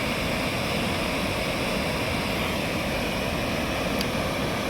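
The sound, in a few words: flooded river water flowing after dam gates opened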